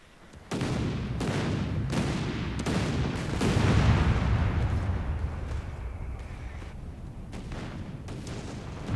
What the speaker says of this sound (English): Incoming! What's incoming? Artillery, great.